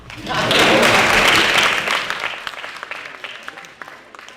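Audience applause at a live USC student government candidates' debate, a loud burst of clapping that swells quickly, peaks in the first couple of seconds, then thins out into scattered claps with some talk underneath.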